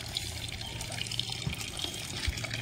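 A tap at a village school runs water into a container, a steady faint splashing stream throughout with no voices.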